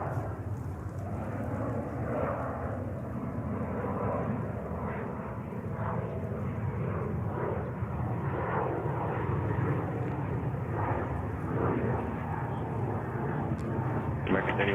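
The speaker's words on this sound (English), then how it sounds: "And there we have a corporate jet." Corporate jet at JFK airport, a steady broad roar of jet engine noise lasting throughout, with continuous airport radio chatter and voices talking over it.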